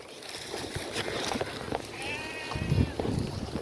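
Goats out in a farm field give a short, wavering bleat partway through, over rustling outdoor noise. Someone talks quietly nearby.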